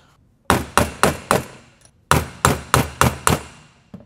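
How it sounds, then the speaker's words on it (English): Sharp metallic hammer blows on a punch driving the brake pins of a Tesla Model 3, two bursts of about five ringing strikes each, close and loud with brief pauses between. "I'm going to first attempt it with our punch and a hammer"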